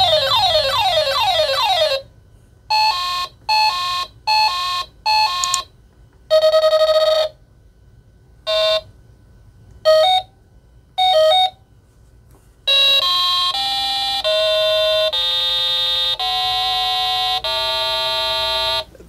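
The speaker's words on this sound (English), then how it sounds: "I tap through a few of them, just to hear these era appropriate kind of Merlin-esque, Simon-esque beeps and bloops that come out of this awesome little game." Electronic beeps and bloops from a vintage Dungeons & Dragons Electronic Labyrinth handheld game, loud and close: a run of short tonal blips and arpeggios separated by pauses, then longer sustained melodic tone sequences, with no talk.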